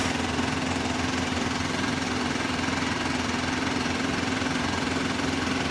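A Hero Xpulse motorcycle engine idles steadily and loudly close by after being kick-started, with an even, unbroken hum and no talking.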